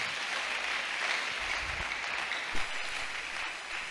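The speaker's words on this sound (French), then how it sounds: "Est-ce que quelqu'un peut acclamer d'abord très fort pour la parole?" A church congregation applauds steadily for a few seconds after being urged to cheer loudly for the preached word, a dense even wash of clapping with a brief louder burst near the end.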